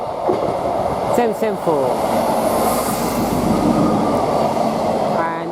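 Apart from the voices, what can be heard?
Class 158 passenger train passing through March railway station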